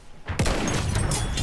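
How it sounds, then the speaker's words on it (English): After a quiet start, a sharp, loud sniper shot from Battlefield 1 cracks out, followed by a sustained booming rumble of battle gunfire. "I'm still getting sniped at though."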